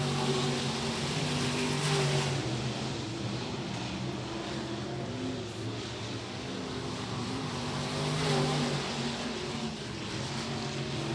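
Race cars roar around Atomic Speedway during local-class qualifying laps, a steady loud engine drone with swells as cars pass, no talk over it.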